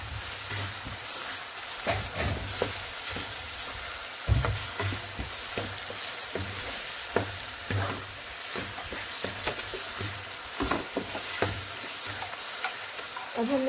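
Dried fenugreek is stirred into aloo keema frying in a pan, with a steady close sizzle broken by irregular scraping stirs of a spoon.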